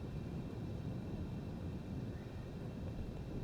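Aircraft systems in Microsoft Flight Simulator 2020 power up, giving a steady, even electrical hum and whir of fans that holds at a constant level with no engine running.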